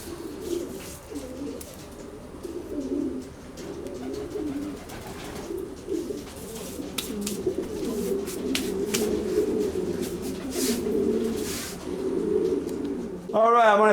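Pigeons in a loft, cooing continuously in a low, steady, layered murmur from many birds, with scattered rustling and a louder clatter at the end; no voices.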